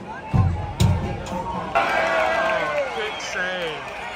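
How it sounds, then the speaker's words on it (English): Supporters group at a Tampa Bay Rowdies versus Loudoun United soccer match cheering steadily in a stadium, a sustained crowd roar with a couple of sharp thumps early on and a nearby voice talking over it. "Ralph's mob continues to cheer as they should."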